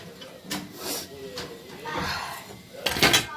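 Small plates and a lid clatter and clink in a home kitchen as a dish is covered. Several brief knocks sit under a voice speaking, and a louder scrape-and-clank comes at the end.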